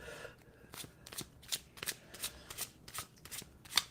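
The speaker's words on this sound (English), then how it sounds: "you're taking forever with the shuffle" Tarot cards being shuffled by hand in a run of about ten quick riffling bursts, close and fairly quiet, with no talk over them.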